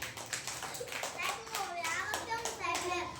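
A group of children clapping in a classroom during a third-grade fruits-and-vegetables activity, a short burst of quick hand claps mixed with children's voices.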